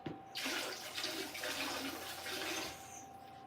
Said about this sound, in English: Let me rinse off this cheese.